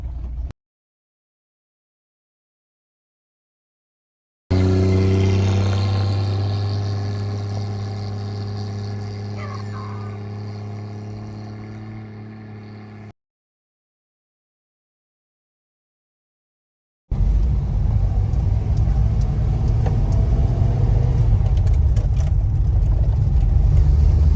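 A restored 1955 FJ Holden Special sedan's small-capacity engine drones steadily from inside the cabin, rising then gradually easing off, with a rougher road rumble later and brief gaps of silence.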